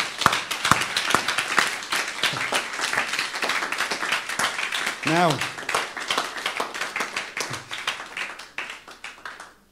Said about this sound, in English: Can we give these guys a round of applause?